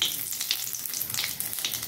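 Whole spices, bay leaf, cloves, cinnamon, cardamom and a little nutmeg, sizzle in hot oil in a pan, a close, continuous crackling fry with small bursts of spitting.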